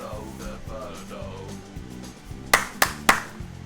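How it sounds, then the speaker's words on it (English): Three sharp, evenly spaced claps ring out near the end of an upbeat music track, standing out loudly above the steady beat and bass. "It's the clapping part, don't miss it."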